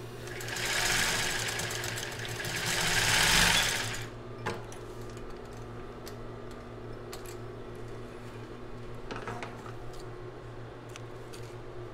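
A sewing machine stitches a children's bra during a sewing lesson, starting with a loud whirring burst, then quieter intermittent stitching and clicks over a steady mechanical hum.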